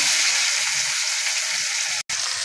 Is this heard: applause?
no